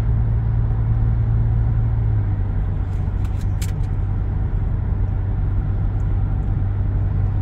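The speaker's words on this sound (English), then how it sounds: "Here we are doing another acceleration pull" Ford F-150 PowerBoost pickup accelerating on the road while towing an 11k car hauler, a steady loud engine and road rumble throughout with a brief higher whine midway.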